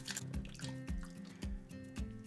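A toothbrush scrubs a front-loader washer's drain filter in a small tub of soapy water, giving close, rapid wet squishing and dripping strokes in a steady rhythm, with no talk.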